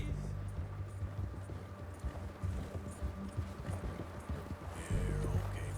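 Horse hooves clip-clopping at speed in the video game Red Dead Redemption 2, a quick uneven drumming of hoofbeats under low game ambience and music, with a louder burst near the end.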